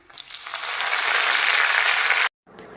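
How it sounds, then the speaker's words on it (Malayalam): Curry leaves and dried red chillies fry in oil with a loud, close, continuous sizzle that swells over two seconds and then cuts off abruptly, leaving a fainter hiss. "ഇതേപോലെ മൂത്ത് വരുമ്പം കുറച്ച് കറിവേപ്പില ഇട്ട് കൊടുക്കാം."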